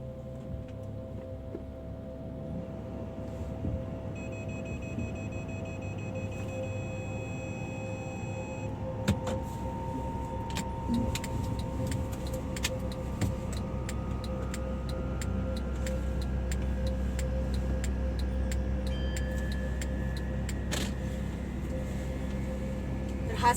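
A car slowly manoeuvres out of a tight parking spot hemmed in by other vehicles, its engine a steady low rumble throughout, with faint ticking and a few light knocks and clicks over it.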